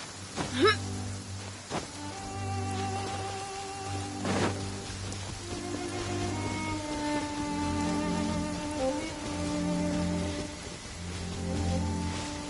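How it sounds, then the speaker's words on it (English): Steady rain falls across a desert in the video game Genshin Impact, a soft continuous patter of drops at moderate loudness with no talk. "it does actually rain in the desert on occasion. And when it does, it's always a lot heavier than this."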